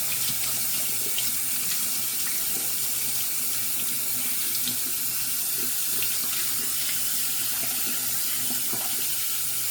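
Running tap water splashes steadily into a sink as a shaving brush is rinsed under the faucet, a loud, continuous close rush with no speech.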